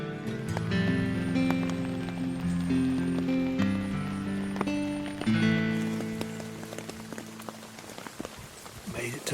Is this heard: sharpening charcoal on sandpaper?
no